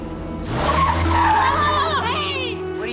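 A car speeds away with tires skidding and squealing loudly, its engine roaring close by as it pulls off.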